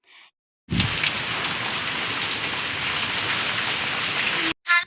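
Heavy wind-driven rain pours down in a dense, steady hiss, starting abruptly and ending suddenly, with brief faint sounds before and after.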